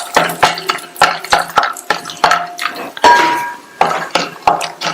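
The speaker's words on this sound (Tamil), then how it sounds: "இந்த பேன்ல 2 டீஸ்பூன் நெய் சேர்த்து, நெய் உருகினதும் 20 இருந்து 25 முந்திரியை சேர்த்து 2 நிமிஷத்துக்கு நல்லா வறுத்துக்கங்க" Cashews roasting in ghee in a pan, punctuated by sharp metallic clinks and scrapes of a utensil against the pan over a soft sizzle.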